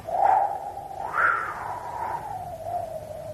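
A person blows softly through the lips to imitate a gentle wind, a continuous breathy whoosh that swells twice and then settles into a steady, moderately quiet hiss.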